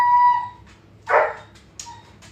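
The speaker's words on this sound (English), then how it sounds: "dog's trying to get over the counter" A dog trying to climb over a kitchen counter gives a short yip near the start, then a louder sharp bark and a fainter whine, close by and with no talking.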